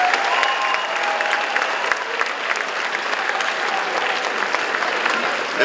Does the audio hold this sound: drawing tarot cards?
no